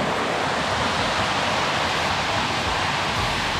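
Gullfoss waterfall and its river in Iceland roar in a dense, constant wash of rushing water, loud and close with no break.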